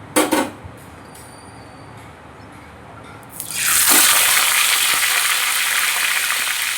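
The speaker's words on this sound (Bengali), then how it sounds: "মাছগুলো এবার উল্টে পাল্টে ভেজে নিচ্ছি" Catla fish pieces rubbed with salt and turmeric fry in hot oil in a wok; after about three quiet seconds a loud, steady, hissing sizzle bursts in and continues, with no talking.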